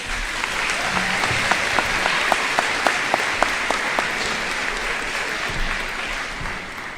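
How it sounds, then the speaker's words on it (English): Graduation audience applauding at a high school ceremony, dense sustained clapping from a large crowd with some sharper individual claps standing out, fading slightly toward the end. "Give yourselves another round of applause."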